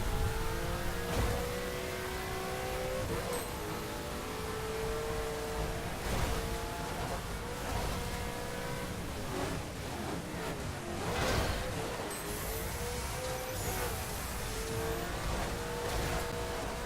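Ferrari F40 engine revving hard through gear changes while racing in The Crew, rising and falling pitch sweeps over steady road noise, loud and close, with a few brief tire-like squeals.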